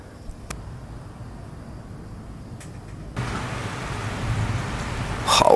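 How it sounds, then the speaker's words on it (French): A violent summer thunderstorm in Gironde, France: steady rain hisses throughout and grows heavier partway through, with a faint distant thunder rumble and a sharp, loud crack near the end. No one speaks. "on se retrouve encore face à un immense orage"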